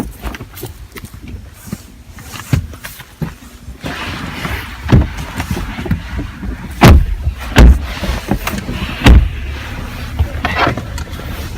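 A BMW X5's doors shut with several heavy, solid thumps, then the SUV's engine starts up with a low rumble, all close by and with no talk.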